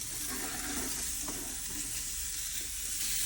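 Beef sizzling and scraping in a hot dry pan with no oil as it is broken apart, a steady close broadband fry with a few brief clicks of the utensil, no voices.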